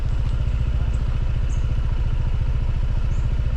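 A motorcycle engine runs steadily and close by with a throbbing, even low idle-like rumble, with no talk over it, on a road near Mayon Volcano.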